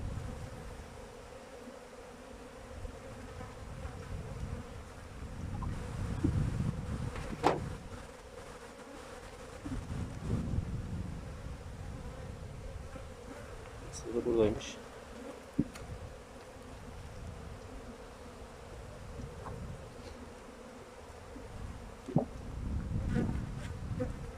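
Honeybees hum continuously around a two-storey hive, a low droning buzz with a few louder passes close by.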